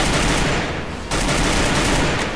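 Rapid bursts of gunfire in the video game Free Fire, loud and close, a dense rattling volley with a brief dip before the shooting resumes, no voices.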